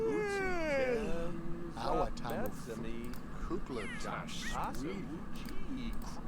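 A cat meows several times in The Sims 3, with rising and falling calls repeating over a game-music bed while a person talks.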